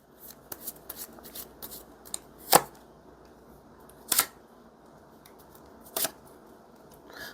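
Tarot cards are shuffled and drawn in a quiet room, with soft papery rustling throughout and three sharper snapping slaps of cards spaced a couple of seconds apart.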